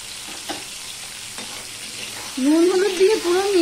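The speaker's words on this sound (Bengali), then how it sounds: "পটলগুলো কিন্তু ভালো করে ভাজতে হবে।" Pointed gourd pieces fry in oil with salt and turmeric, quiet stirring knocks at first, then a loud sizzle swells up near the end; a voice speaks briefly over it.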